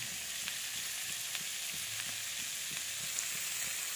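Ingredients for poha frying in a pan make a steady, moderate hiss with faint crackles and light stirring taps, continuous and close, with no voices.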